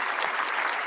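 Audience applause in a brief, steady wash of clapping at moderate distance, without pause or a clear ending.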